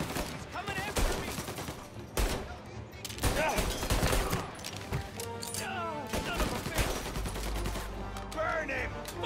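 Gunfire in Mafia: Definitive Edition, a dense, loud volley of shots and bursts running through the whole stretch, mixed with shouting voices and game noise.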